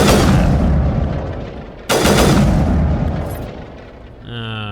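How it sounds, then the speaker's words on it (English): Two heavy, booming rifle shots from a burst-fire sniper rifle in Mass Effect, loud and close, each followed by a long rumbling decay, with a voice starting at the end. "It's a burst fire sniper rifle"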